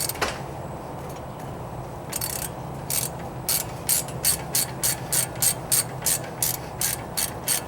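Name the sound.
ratchet loosening brake caliper retaining bolts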